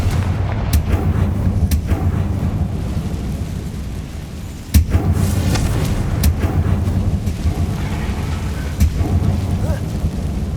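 Confringo fire spell blasts go off in Hogwarts Legacy gameplay, booming explosive hits over loud rumbling game ambience, with one sharp strong blast midway and several lighter bursts around it.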